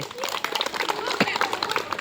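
A group claps in short, scattered bursts, with loud talking going on over the applause.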